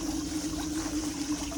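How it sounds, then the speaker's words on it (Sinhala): A stream runs through the Palmada forest, giving an even, constant trickling rush of water at moderate volume with no break and no voices. "මේ තියෙන වතුර පාරවල් මෙහෙන් එනවා."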